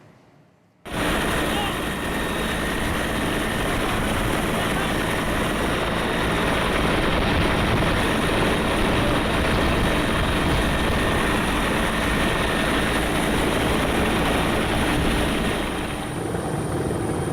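An SAR rescue helicopter at a plane crash site in a forest drones loudly and steadily, rotor and engine roar starting abruptly and holding near and constant throughout.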